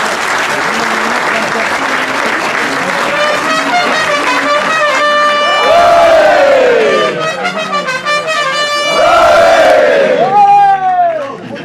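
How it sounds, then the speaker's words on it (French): A crowd applauds and cheers for US Oyonnax rugby players at a town hall reception, loud sustained clapping joined by swelling chanted or shouted cheers that surge twice before easing. "Et on peut applaudir Christophe."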